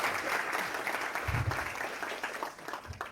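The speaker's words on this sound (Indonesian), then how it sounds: "Boleh dikasih tepuk tangan buat rektor." Audience applause for a university rector during a campus talk, a fairly faint, steady patter of many hands clapping for about three seconds with some low thumps beneath.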